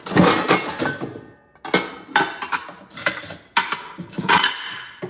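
Glassware from Costco being packed, giving repeated loud clinks, knocks and rattles in several bursts with short pauses between them, close by and with no talking.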